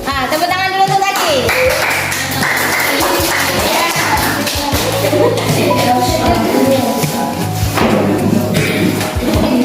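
A classroom of seventh-grade students claps hands steadily and loudly throughout, mixed with thumps, taps and excited voices calling out together.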